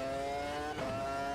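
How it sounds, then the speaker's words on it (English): Formula One racing cars in a film scene, with a loud sustained engine whine that dips briefly, then surges back as a high revving tone. "So these cars are so loud"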